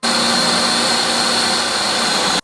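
A kitchen blender fitted with a bladed lid blends frozen whey into a meal, a steady loud whirring motor roar held at constant pitch for a couple of seconds before it cuts off abruptly.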